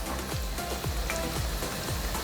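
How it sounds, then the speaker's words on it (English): Banana tostones frying in hot oil, a steady close sizzle with crackling pops, rhythmic soft thumps recurring underneath. "keep your eye on that sizzle"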